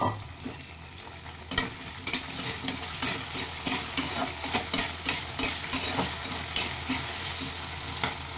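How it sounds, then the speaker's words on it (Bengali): Okra sizzles steadily in a pan of hot oil while a spatula scrapes and stirs it in a quick, regular rhythm of close clinks, with no talking. "এবার ভেজে নেব ঢ্যাঁড়স বা ভেন্ডি।"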